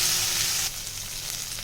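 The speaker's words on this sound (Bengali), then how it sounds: "মাছের ডিমগুলো ভাজা হয়ে গেছে" Hilsa fish roe fries in hot oil with a steady, close sizzle that drops slightly in loudness partway through, and no voices are present.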